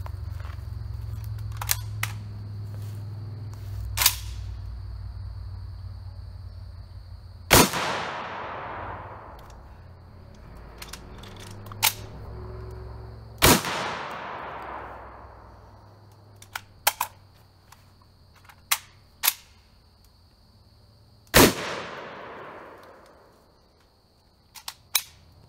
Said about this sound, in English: now we're gonna go ahead and shoot our Federal rifled slugs